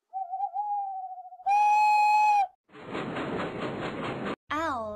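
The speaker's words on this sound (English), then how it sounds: "Owls." Owl hoots from a toddler counting mobile game on Android: a steady tonal hoot, then a loud harmonic-rich synthetic tone, followed by a broad noisy burst and a short rising call, all loud and with no talk.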